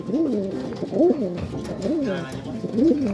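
Racing pigeon cooing close by in repeated rising and falling throaty coos, about four phrases in quick succession, with soft background noise.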